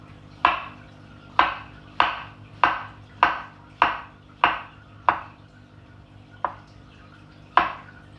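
A knife slicing mushrooms on a cutting board, with about ten crisp evenly spaced chops ringing close and clear, no talking.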